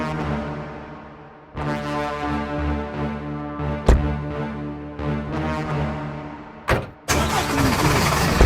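A car engine cranks and starts, its low rumble settling into a steady idle. The rumble breaks off briefly and catches again. A sharp thump or door sound cuts in near the end.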